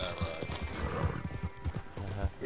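Horses ridden close by in Red Dead Online, their hooves clip-clopping in a steady rhythm with occasional whinnies, set against game ambience and voices talking over it.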